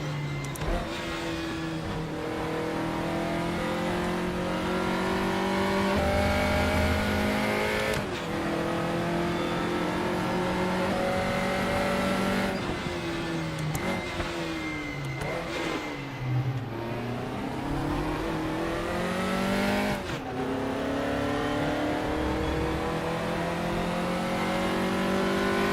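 A vintage Formula race car engine revs hard in the RaceRoom racing game. The engine climbs and drops through repeated gear changes, loud and close, with occasional tire squeal and no talking.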